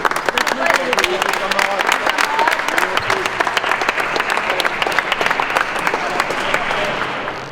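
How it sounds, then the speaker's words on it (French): Crowd applause at a youth basketball All-Star Game closing a summer camp in a gym, sustained dense clapping with sharp individual claps standing out, voices mixed in and faintly trailing off at the end. "Applaudissez les camarades aussi"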